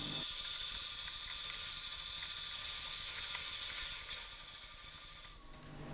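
A metal-cutting lathe turning pass with a damped Silent Tools boring bar gives a steady mechanical whir with a sustained high tonal whine, quiet and even before easing slightly near the end.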